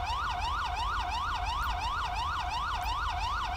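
A police car siren in the game GTA 5 wails continuously in a steady rising and falling pattern, loud and close, over a low engine rumble with no talking.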